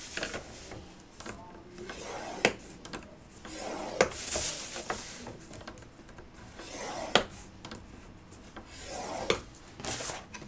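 Paper scraped along the grooves of a scoring board with a scoring tool, 6x6 cut-apart sheets being scored on all four sides of an 11 by 11 piece; repeated dry rubbing strokes with a few sharper clicks, close and fairly quiet.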